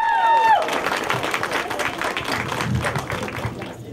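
Loud applause and cheering at a school's last-bell ceremony in a gymnasium in Nizhyn as top teachers receive awards, dense clapping with crowd noise after a brief opening tone, continuing steadily at close range.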